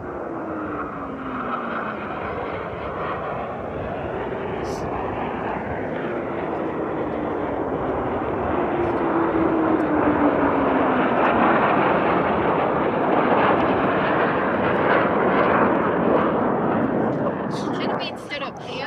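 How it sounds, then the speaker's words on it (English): An airplane passes overhead high above Lake District fells in a long, loud roar that swells and slowly fades over nearly twenty seconds, with wind buffeting outdoors. "I love watching the planes go over."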